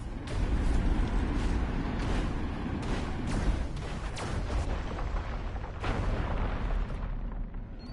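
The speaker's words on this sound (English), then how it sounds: "So many sonic booms." Sonic booms and explosions from the Destroy All Humans 2: Reprobed video game, a dense, continuous barrage of loud booming blasts and rumbling detonations stacked one over another, with no talking.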